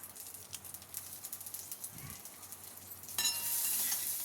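Mustard seeds, urad dal, curry leaves and two green chillies frying in hot oil in a pan, a steady soft sizzle and crackle throughout that grows louder and brighter toward the end, with no talking.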